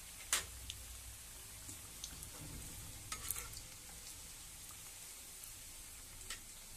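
Cabbage pakoras frying on a low flame in a kadhai make a soft, even bubbling sizzle, broken by a few light stirring taps and clicks. No voices are heard.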